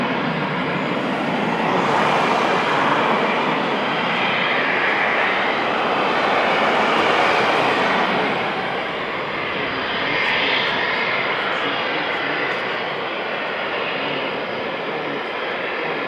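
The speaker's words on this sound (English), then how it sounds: "we had a bit of burners as well" A military jet using afterburners at RAF Coningsby airbase gives a loud, steady roar that swells and fades over sixteen seconds, with faint talk underneath.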